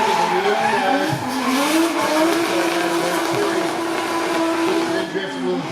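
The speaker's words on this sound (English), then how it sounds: "Then drifting on the throttle." A drift car at a drift series qualifying round in Miri, Sarawak skids its tyres through a slide while the engine revs and wavers, a loud continuous screech and rising-falling engine note.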